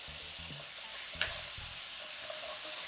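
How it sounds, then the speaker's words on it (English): Garlic sizzling in a skillet with melted butter and pork chop drippings, a quiet, steady hiss close by, with a few light utensil stirs and one small clink, no voices. "I'm going to add 1 tablespoon of garlic."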